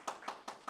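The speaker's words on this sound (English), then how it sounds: "let's give him a round of applause because great track" A few people clap at a small music-producer meetup, giving a short, sparse round of applause with about four distinct hand claps, fairly close and quiet, with no one speaking over it.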